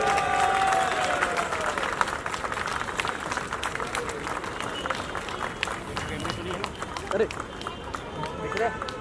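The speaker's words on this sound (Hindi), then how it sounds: "हम जोरदार तालियों के साथ रोहित साहब का इस्तकबाल करेंगे" A crowd breaks into loud, continuous applause, a dense wash of clapping that holds steady for several seconds with faint voices mixed in.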